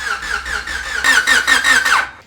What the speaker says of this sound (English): just did a little dry run with the distributor unplugged just to try and cycle some oil